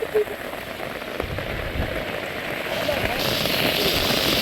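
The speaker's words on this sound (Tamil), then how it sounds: "மழை தண்ணி விழுது தக்கு தக்கு தக்கு" Heavy rain in Jaffna patters on a surface in a dense, continuous hiss that thickens slightly toward the end, with a voice briefly audible.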